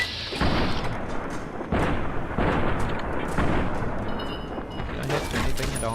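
Gunfire in Fallout: New Vegas comes as dense, loud, continuous bursts of booming shots and explosions, with a few abrupt gaps and shifts.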